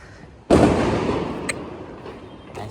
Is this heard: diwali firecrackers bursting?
yes